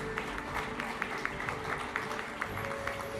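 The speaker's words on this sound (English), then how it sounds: "let's give them a round of applause" Applause for a school board at an education summit recognition ceremony, steady scattered clapping through a hall with a few sharper claps standing out, moderately loud and continuous for a few seconds.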